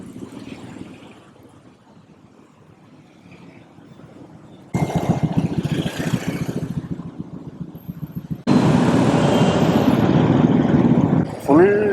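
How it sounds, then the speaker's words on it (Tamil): Heavy road traffic in Thailand, starting as a faint distant hum, then jumping to loud close engine roar and passing vehicles, with a sharp horn-like tone near the end. "ஃபுல் டிராஃபிக்காக இருக்குது இங்கே."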